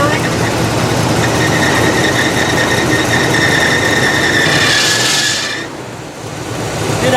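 A Buick engine idles roughly just after startup, misfiring, with a steady loud rumble and whining belt tones throughout that fade briefly near the end before the running noise swells back.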